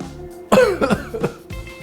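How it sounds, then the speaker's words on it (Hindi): Someone coughs several times in quick bursts, harsh and close, while frying dried red chillies for homemade Schezwan chutney throw off fiery fumes in a home kitchen. "देखिए ऑलरेडी खांसी शुरू हो चुकी है।"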